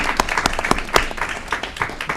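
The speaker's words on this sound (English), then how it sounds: "Let's give them a round of applause for their hard work that they're doing here in the city of Aurora." Applause from the audience at an Aurora city council committee meeting, a short burst of scattered hand claps in a meeting room at moderate volume, with no talking over it.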